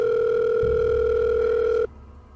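A steady telephone dial tone hums alone for about two seconds and then cuts off abruptly, heard before a call is placed to a priest in a horror film.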